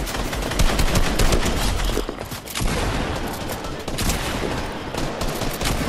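Dense, continuous automatic gunfire in a shooter video game with drift boards, loud and close, with rapid overlapping shots and no clear pauses.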